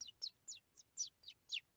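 Small birds chirp in a garden, seven short high tweets repeating at a steady, evenly spaced rhythm, fairly faint and with no other sound.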